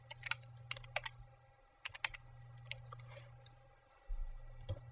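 Typing on a computer keyboard to enter a title when saving a color theme: irregular bursts of close, crisp key clicks with short pauses between them, over a low steady hum, with no talking.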